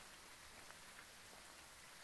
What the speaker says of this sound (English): Let's not just stand out here in the rain.